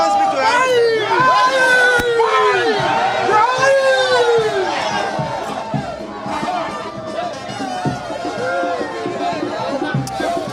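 A large crowd of Fix the Country supporters thronged outside a police station, shouting and chanting in a loud, continuous roar of overlapping voices with rising cries.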